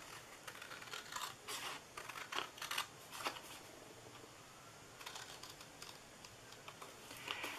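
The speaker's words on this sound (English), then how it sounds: "we are going to cut that little one off again, just like that. Again, we're going to cut off these two long ones." Paper flaps being snipped with scissors while making a birthday nugget treat box, a series of close, crisp cuts and rustles in an uneven rhythm with no talking.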